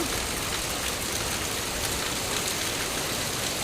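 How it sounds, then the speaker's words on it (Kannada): Dense, steady roar of heavy rain pouring down without pause, loud and close, with no voices. "ಎಷ್ಟು ಜೋರು ಮಳೆ ನೋಡಿ ತುಂಬಾ ಜೋರಾಗಿ ಮಳೆ ಬರ್ತಾ ಇದೆ"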